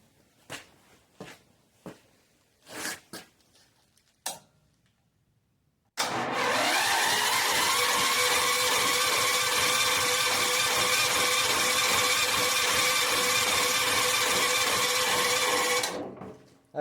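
A Jansen GTS 1500 E engine, choke on, is pull-started after a few short knocks and then roars steadily and loudly for about ten seconds before cutting off.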